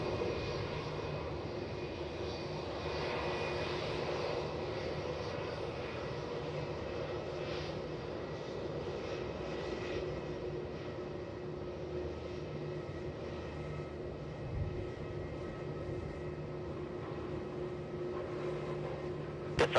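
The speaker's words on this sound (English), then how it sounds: "Here's the takeoff" An Air India heavy jet takes off at Melbourne Airport, a sustained loud engine roar with a broad rumbling drone holding steady for around twenty seconds, heard from a distance without talk.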